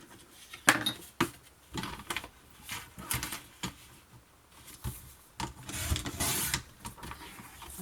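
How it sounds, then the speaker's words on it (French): Paper being cut two sheets at a time for a scrapbooking pop-up folio, heard as a series of close, dry rasping and scraping strokes in irregular bursts, with no voices. "Je vais couper les deux en même temps."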